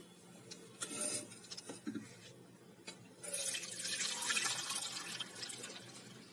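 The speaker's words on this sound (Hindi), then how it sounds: "तो हम लोग छोले छान लेंगे छाननी में।" Cooking water from boiled chickpeas pours through a kitchen sieve into a pot while making Pindi chhole, giving a short splash, a few drips, then a steady rushing pour that carries to the end.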